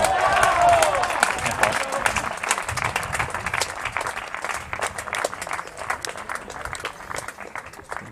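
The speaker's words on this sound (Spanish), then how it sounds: "Muy buen punto de Pedro, que así lo aplaude la gente precisamente." Spectators applauding a point during a men's squash championship final, a sustained crowd clapping that starts strong and gradually thins, with a commentator talking over it.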